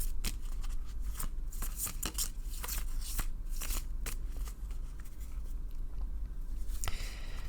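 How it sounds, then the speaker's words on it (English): Tarot cards shuffled by hand in repeated crisp riffling bursts, close and clear over a steady low background hiss, with no talking. "I shuffle until Spirit asks me to stop."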